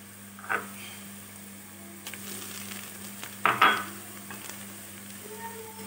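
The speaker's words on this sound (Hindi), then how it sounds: "इसको भी थोड़ा सा भून लूँगी प्याज के साथ" Ginger garlic paste frying with onion in a pan, a faint sizzle under a steady hum, with two short louder bursts of stirring or scraping against the pan.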